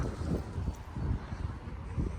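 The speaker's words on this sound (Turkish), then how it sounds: "Yine rüzgar sesi geliyor mu bilmiyorum ama" Gusty wind buffets the microphone in low rumbling bursts, a rough blustery noise with no clear talk.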